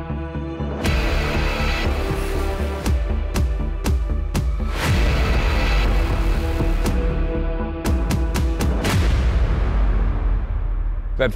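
Sig Sauer X-Ten 10mm pistol firing outdoors, a series of sharp, loud gunshots spaced irregularly, some close together, each with a booming tail over a constant low hum.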